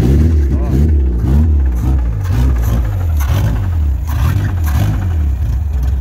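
A Chevrolet Marajó's large engine rumbles loudly and revs up and down, its deep roar rising and falling throughout.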